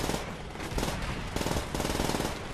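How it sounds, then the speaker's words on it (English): A PPSh submachine gun fires in the World War II shooter Call of Duty: World at War, with rapid, dense bursts of gunfire in several strings separated by short pauses and no voices. "the Papsher was like one of the more popular guns in the game just because of its ludicrous rate of fire"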